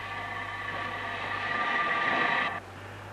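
Steam locomotive train running on the Isle of Wight line, a steady rolling rumble with a high tonal ring that cuts off abruptly near the end.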